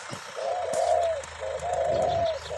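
Doves coo in two drawn-out, resonant phrases, close and clear, with faint background chirps and rustling around them.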